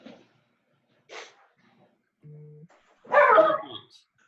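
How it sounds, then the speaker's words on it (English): A dog gives a single loud, short bark close by, following a few faint quieter sounds in an otherwise quiet room during an online call. "Sorry, my dog."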